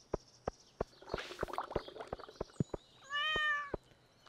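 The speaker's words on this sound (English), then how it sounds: "I forgot to pet my kitty." A cat meows with rising, harmonic calls in the Stardew Valley farming game, set against steady, rhythmic game ticks and a rustling patch, ending in one longer, louder meow.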